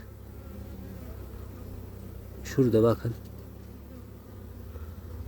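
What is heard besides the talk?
honeybees buzzing at a weak hive, Italian Gold queen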